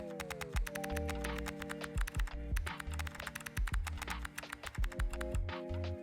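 Mechanical keyboard typing, close and crisp, with bursts of sharp clacky keystrokes and short pauses, under a faint steady tone in the background.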